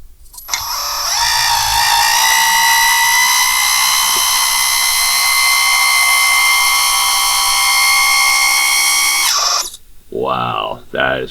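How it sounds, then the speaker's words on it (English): The hydraulic function of a KABOLITE K960 toy construction vehicle runs as a sustained, high, whining motor drone that shifts slightly in pitch and lasts several seconds, then stops; voices follow briefly. "let's do the hydraulic function on it."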